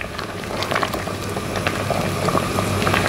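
Rendang jengkol simmering in a pot as its liquid cooks down, giving a steady close bubbling texture with small scattered pops throughout.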